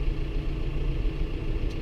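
A tractor engine fitted with GPS runs steadily while seeding in the dark, a continuous low rumble heard from inside the cab with no talk over it.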